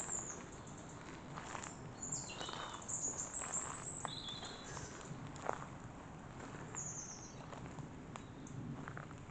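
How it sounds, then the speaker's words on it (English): Small birds chirping outdoors, with faint, scattered high tweets and short calls over a soft, rustling background, at a moderate distance and with no talk. "I don't mean to disturb you, little birds."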